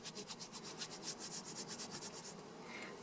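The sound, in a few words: rubbing a lump on felted yarn join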